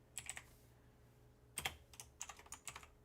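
Quiet clicking on a computer keyboard as a short word is typed: soft bursts of keystrokes in small clusters separated by brief pauses, close but faint, with no voices.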